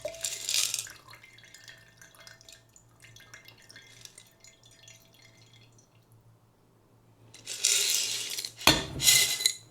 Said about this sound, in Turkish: Şimdi boş beherimize bu şekilde bir süzelim.